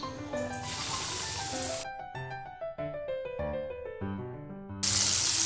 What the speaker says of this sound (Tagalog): Iprito lang po natin ang ating chicken neck hanggang maging golden brown.